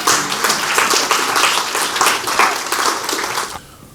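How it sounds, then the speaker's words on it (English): An audience applauds loudly and steadily at a community foundation panel event, the dense clapping fading sharply near the end. "give a huge round of applause to Herr"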